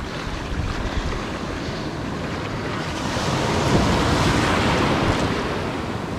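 Ocean surf breaks and washes along the beach at La Jolla during a pontoon boat launch, a steady close roar mixed with wind buffeting the microphone that swells louder midway, with no one speaking.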